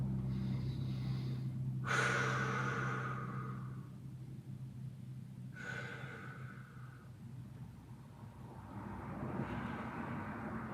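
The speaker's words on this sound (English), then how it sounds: "And 6 deep breaths in this position." Deep breaths during an ankle stretch against a wall in a CrossFit workout: two slow, audible inhale-exhale cycles, fairly faint and close, over a low steady background hum.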